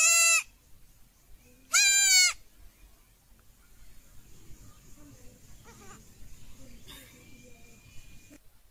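Two loud, close goat bleats ring out one after another, followed by quieter background noise and faint farmyard sounds.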